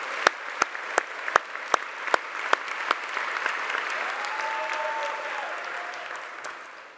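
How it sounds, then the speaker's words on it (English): A few sharp, separate claps lead into a full wave of audience applause at an awards ceremony honoring a staff member, sustained and broad, with a faint voice toward the end. "Let's applaud Kyle."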